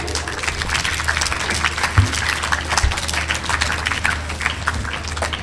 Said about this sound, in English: More clap. Do loud clap for.